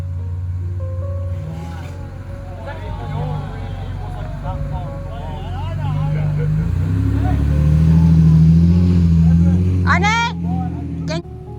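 A 4WD vehicle driving out of a river crossing on a Cape York trip, a steady low engine rumble that swells louder midway with water churning, while people talk and call directions over it.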